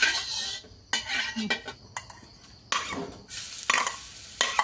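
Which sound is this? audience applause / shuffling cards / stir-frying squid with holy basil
stir-frying squid with holy basil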